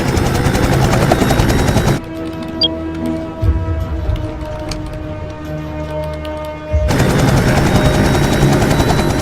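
A helicopter taking off roars loudly with a dense rotor and engine drone, cuts to a quieter interior stretch with low humming and ticking, then returns to the full loud roar.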